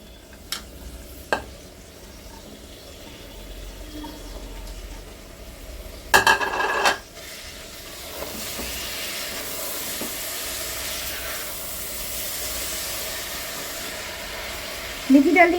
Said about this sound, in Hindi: तो देखिए हमने थोड़ी देर मसाले भून लिए, और अब हम इसमें ऐड कर देंगे मेथी।